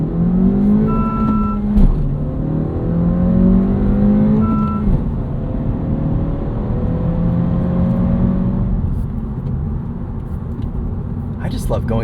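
Honda Civic Si four-cylinder engine pulling through the gears from inside the cabin, a steady, moderately loud drone with rising tones and brief drops at each shift; a voice talks over it.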